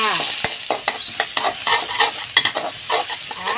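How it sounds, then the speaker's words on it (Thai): Pounded chili and garlic frying and being stirred in a hot pan for spicy basil liver, a loud steady sizzle with repeated scraping stir strokes close up. "ก่อนอื่นเอาพริกกับกระเทียมที่เราโขลกไว้ลงไปเลยค่ะ"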